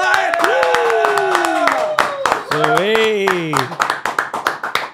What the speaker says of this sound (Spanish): Recibamos con un fuerte aplauso a Nesti